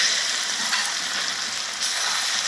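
Pork frying on a sadj with garlic just added gives a loud, steady, hissing sizzle throughout, with faint scraping as it is stirred.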